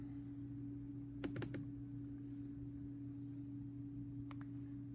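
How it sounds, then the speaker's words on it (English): A few quick keystrokes on a computer keyboard typing into a search bar, faint and brief against a steady electrical hum, with no talking. "in the search bar that appears, you're going to type the word web"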